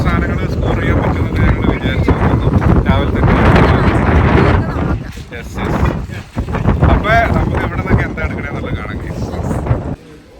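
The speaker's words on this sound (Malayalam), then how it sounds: "നല്ല കാറ്റുണ്ട്" Strong outdoor wind buffets the microphone on a sunny day in Canada, a loud continuous rumbling roar with gusty swells that dips briefly midway and then returns.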